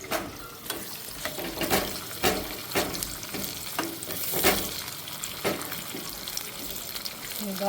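Chopped onions fry in a pan for pappu charu, a dense close sizzle punctuated by frequent stirring scrapes, with a voice faintly present underneath.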